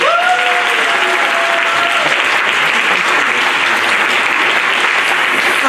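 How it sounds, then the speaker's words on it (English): A large audience at a panel event applauds loudly and continuously, a thick wall of clapping with a few brief whoops or cheers near the start. "we're gonna like so totally hand clap, applaud them for being with us today"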